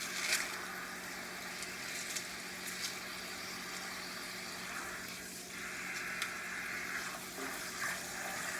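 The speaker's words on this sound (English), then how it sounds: "So see how we got this nice clean water running into the sink?" Clean tap water runs into a kitchen sink while collard greens are rinsed, a steady, soft rushing stream that stays even throughout with a few faint clicks.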